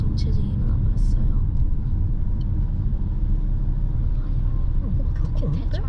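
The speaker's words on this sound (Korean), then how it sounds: "하지만 앞에는 트래픽 교통체증이 일어나버렸어요." Congested San Francisco street traffic, a constant low engine rumble from slow-moving cars filling the scene, with a few faint brief higher sounds on top, steady and close throughout.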